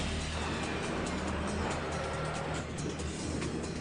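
Steady low engine rumble of M18 Hellcat and M36 tank destroyers starting up and pulling away, a continuous dense roar with no voices.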